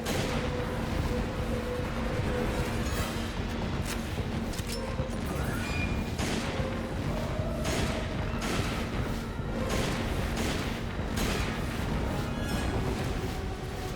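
Sustained barrage of gunfire and heavy booms during a boss fight in Resident Evil 5, dense and continuous throughout with overlapping shots and blasts at steady high loudness.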